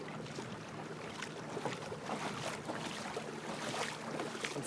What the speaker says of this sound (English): And then third gear really cranks it up.